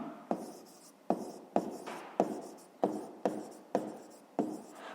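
Pen strokes scratch across paper in repeated short bursts, roughly eight distinct strokes in a brisk rhythm, close and clear, as a fifth-grade math word problem is written out by hand with no talking.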